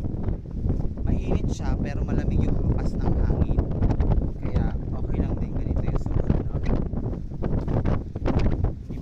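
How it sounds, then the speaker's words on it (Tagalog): Strong wind at Dubai Marina buffets the microphone with a loud, constant, gusty rush and rumble. Someone speaks intermittently beneath it. "Mainit siya pero malamig yung hampas ng hangin."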